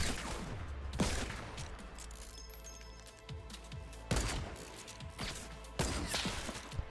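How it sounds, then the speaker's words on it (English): Sniper rifle fire in a Fortnite snipers-only match, three sharp heavy cracks spaced a couple of seconds apart over a busy game soundscape of rumble and clatter. "Are these shots not killing them?"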